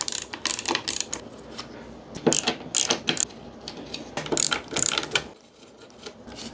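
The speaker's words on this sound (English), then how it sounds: "I'll remove the nuts off the bolts here." Nuts are removed from bolts on a Paillard Swiss radio, model 3610B, giving close, sharp metallic clicks and rattles in irregular clusters, with brief quiet gaps between them.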